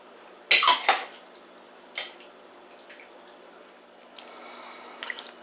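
Chicken soup that has cooled in a pot is stirred with a utensil. A cluster of close metallic clinks and scrapes comes first, then single knocks and light rattles break a quiet background.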